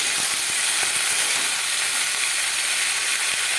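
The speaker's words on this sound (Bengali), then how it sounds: "কেটে রাখা সবজিটা দিয়ে দেবো সেম আলু বেগুনটা দিয়ে দেবো মেথিটাকে একটু নাড়িয়ে নেবো তেলের মধ্যে" Cut vegetables, including flat beans, potato and eggplant, fry with fenugreek in hot oil, a steady loud sizzle broken by light clicks of stirring, with no talk.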